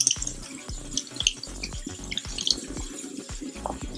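Small makeup brushes rinsed under a running tap, with close splashing and dripping water and irregular bursts as the brushes are worked through the stream, no voices.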